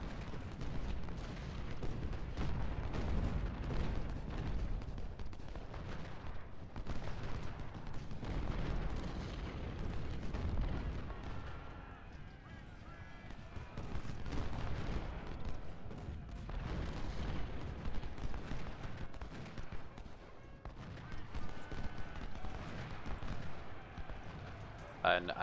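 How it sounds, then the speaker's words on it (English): Rumbling musket and artillery fire with booms and the pounding of a cavalry charge fill a Civil War battle at Port Republic in a strategy game, continuous and dense, with a voice talking over it. "I'm gonna hit them with the cavalry and destroy them."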